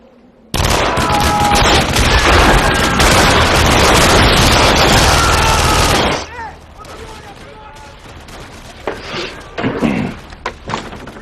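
Heavy sustained gunfire in a sci-fi action movie, a loud dense burst for about six seconds that cuts off abruptly, followed by quieter scattered impacts and bangs.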